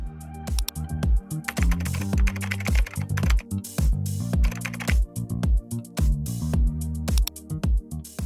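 Fingers type on a computer keyboard in quick, uneven bursts of crisp key clicks with brief pauses, close and clear with no voice.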